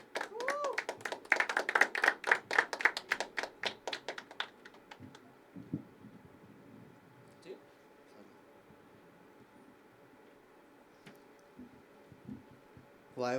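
An audience claps for the next artist at a poetry open mic at The Habitat, a lively burst of many hands that fades within about four seconds, leaving a quiet room with a few faint taps and a brief voice.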